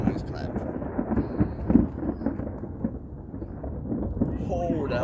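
Thunder from a close thunderstorm rolls and booms in a loud, sustained low rumble with a sharper peak near the middle, with faint rain and brief speech-like sounds mixed in.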